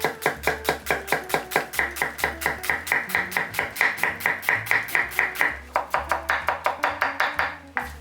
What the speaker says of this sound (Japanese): まず最初に玉ねぎを切っていきます